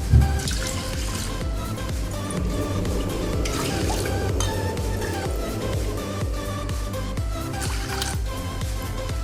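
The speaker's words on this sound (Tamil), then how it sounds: "இப்போ அதே கப்பில் மூணு கப்பு தண்ணி சேர்த்துக்கோங்க" Water pours and splashes from a measuring cup in a continuous trickling stream, close by, with a few small drips and sloshes, as water is added to a pressure cooker dish.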